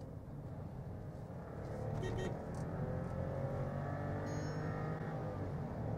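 A Skoda Slavia sedan in manual sports mode accelerates with a steady engine note, rising slightly as the revs climb, heard from inside the cabin at a moderate level without talk.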